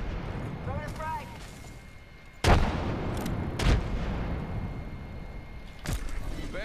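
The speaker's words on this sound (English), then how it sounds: "Throwing a frag." A frag grenade explosion in the battle royale shooter Apex Legends: sharp, loud blasts land in separate bursts over a busy game backdrop, with a brief voice-like sound heard early on.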